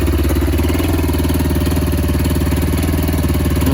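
A Linhai M150 quad bike engine runs close by with a loud, steady, chugging mid-pitched drone, given gentle throttle without sharp revving.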